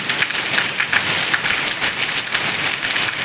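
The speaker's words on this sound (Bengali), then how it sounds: "জাস্ট আমি আর বৃষ্টি, আর বৃষ্টি রিমঝিম শব্দ" Rain falling steadily outside a window during a thunderstorm, a dense even patter of drops that stays close and fairly loud with no one speaking.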